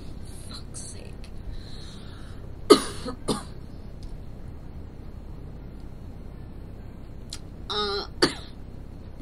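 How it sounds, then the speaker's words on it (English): A person coughs and clears their throat a few times while unwell with a lingering cough, with short bursts near the start and again toward the end over quiet room noise. "this cough is going to stick around a while from what I've heard"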